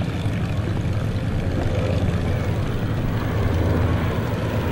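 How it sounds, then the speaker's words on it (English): A B-17 bomber making a low photo pass at a World War II weekend airshow gives a steady, loud propeller-engine drone that fills the whole stretch without letup. "Looks like he's going to dip that lower right wing, give us a good photo pass on the B-17"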